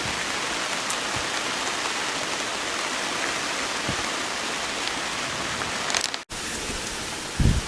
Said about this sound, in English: Rain's picking up a little bit.